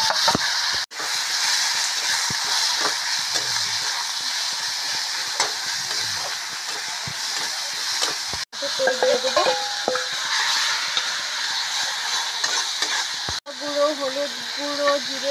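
Onions hiss and sizzle in hot oil with tempering spices, a continuous frying noise broken by a few abrupt cuts, while voices and brief tonal honk-like sounds come in during the later part.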